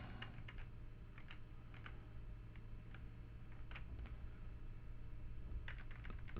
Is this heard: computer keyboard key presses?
yes